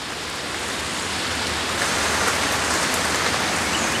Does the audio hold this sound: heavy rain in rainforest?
yes